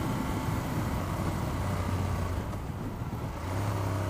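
A Ducati Monster motorcycle engine drones and rises in pitch while riding, a close, steady mechanical hum with low rumbling tones that dip briefly and return, heard alone without talk.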